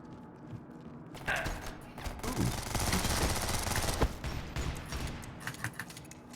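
Rapid automatic gunfire from two guns in the first-person shooter game Ballistic Overkill, a dense sustained burst of loud shots after a quiet opening, with a sharp crack near the end and trailing scattered shots.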